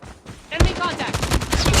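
Close-range video game gunfire crackles in rapid, uneven bursts after a brief quieter opening, with in-game voices mixed into the loud action.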